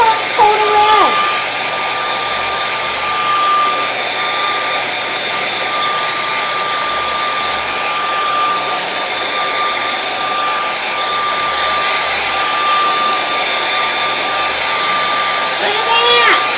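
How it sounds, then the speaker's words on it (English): A hair dryer drying a coat of red paint blows steadily at close range, a loud continuous whooshing whine with a high tonal hum that runs throughout without pause. "Let's take your hair dryer. Dry off that first coat of red."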